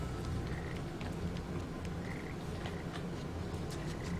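Frogs in the video game Papo & Yo croak in short repeated chirpy bursts, scattered and moderately faint over a dense, continuous environmental wash, with no voices.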